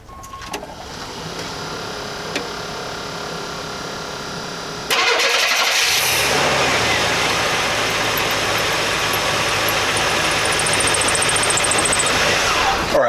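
A Chevrolet C10 Stepside pickup with a throttle position sensor fault cranks briefly, fires up, and settles into a loud steady idle close by.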